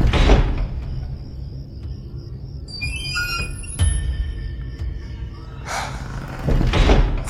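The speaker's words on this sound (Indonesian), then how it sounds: "Pintu itu masih dimainkan, dibuka tutup," A ghostly room door swings open and shut by itself in a horror radio drama: a close thump, a thin high creak and squeak partway through, then more bumps and knocks near the end.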